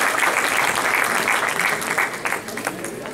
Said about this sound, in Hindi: आप सब उनके लिए तालियां होनी चाहिए